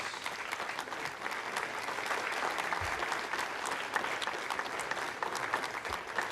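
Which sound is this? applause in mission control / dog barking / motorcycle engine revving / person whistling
applause in mission control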